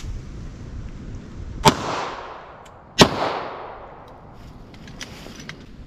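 Two sharp gunshots about a second and a half apart, firing Hornady Custom 147 grain XTP 9mm rounds into wood in an outdoor penetration test, each crack loud and followed by a rolling echo that fades away.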